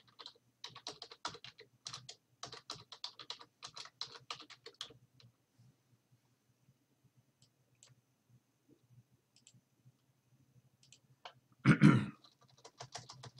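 Typing on a computer keyboard while entering a headline: quick, light clicking keystrokes in a dense run for several seconds, then near silence, and a final louder clatter of keys near the end, close and quiet.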